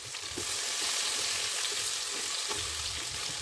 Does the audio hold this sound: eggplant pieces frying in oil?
yes